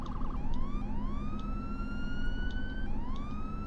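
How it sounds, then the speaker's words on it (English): Police car siren in the video game Police Sim NYC, wailing loud and close as it sweeps up and down in repeated rising tones over a steady engine drone. "I don't know how to turn off the siren"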